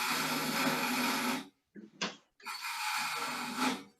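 A skew chisel cutting wood on a lathe while an egg shape is turned, a steady rough shaving hiss that breaks off, gives a few short scrapes, then resumes for a second long pass.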